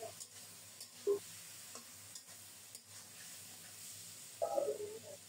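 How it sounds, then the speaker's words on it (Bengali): Marinated fish stirred into onion and spice tempering in a frying pan, a soft steady sizzle with occasional scrapes and louder stirring bumps near the end, no talking. "নেড়ে চেড়ে মাছটাকে ফোড়নের সাথে ভালো করে মিশিয়ে একটু ছড়িয়ে দিচ্ছি"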